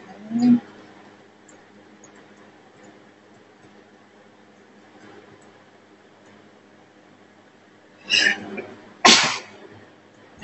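A person sneezes several times in a quiet room: one sharp burst near the start, then two close, loud bursts near the end, with faint background hiss between.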